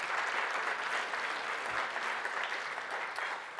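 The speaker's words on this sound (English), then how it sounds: "So just round of applause to us for that service day." Applause from an audience at a meeting, filling the room with dense, steady clapping for nearly four seconds before easing off slightly.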